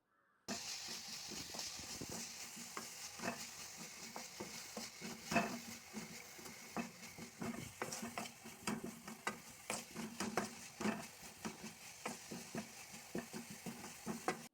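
Onions sautéing with salt in a pan for ragi semiya upma, a continuous frying sizzle with repeated scraping and stirring strokes of a utensil against the pan, close and moderately loud.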